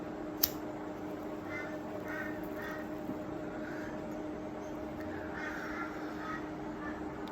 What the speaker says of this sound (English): Crows are talking.